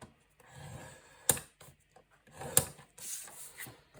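Paper being scored at half an inch for a soft-spine mini book, a few dry rubbing and scraping strokes with two sharp clicks, close and quiet with pauses between.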